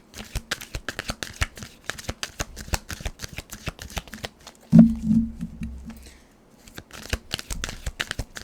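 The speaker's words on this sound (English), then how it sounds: "Let's give me a couple more minutes here in shuffling." Tarot cards being shuffled by hand at close range, a steady run of quick papery riffles and flicks repeating across the stretch, with one louder thump midway and a brief pause before the shuffling resumes.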